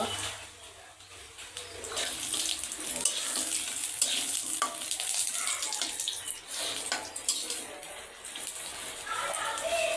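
Bori, small lentil dumplings, frying in hot oil until reddish, a dense continuous hiss and crackle that holds steady throughout at close range.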